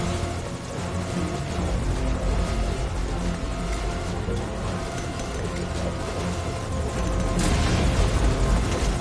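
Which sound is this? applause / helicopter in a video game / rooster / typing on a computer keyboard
helicopter in a video game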